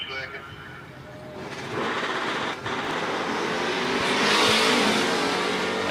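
A hot rod launches with its wheels up down a drag strip against a big Suburban, its engine roaring loudly and climbing steadily in pitch as it accelerates away, with a voice faintly underneath.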